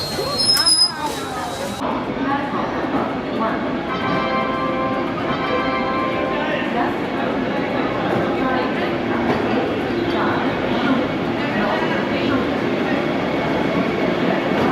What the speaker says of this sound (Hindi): हमारी ट्रेन भी आ चुकी है, Vande Bharat made in India train.